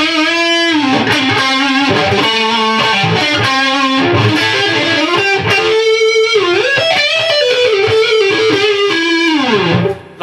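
A Gibson Les Paul Custom electric guitar on its neck pickup plays a warm, singing lead line with bends and sustained notes over chords, slightly driven, loud and close, with no voices.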